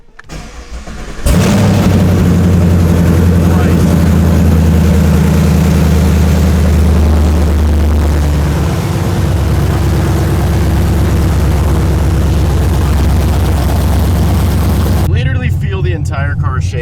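A sixth-generation Chevrolet Camaro with an LT1 V8 and long tube headers dumping open cold-starts with a sudden loud bark, then settles into a harsh, rumbling high idle that drones steadily before cutting off abruptly.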